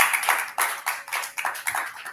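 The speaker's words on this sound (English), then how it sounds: "Clap it up, y'all." An audience at a Melanin Mondays meetup in Atlanta claps in steady bursts of applause that swell and dip without pause, fairly loud and close, with no talk over it.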